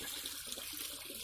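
Water pours steadily into a garden fish pond, a continuous hissing splash close by, alone without voices, briefly.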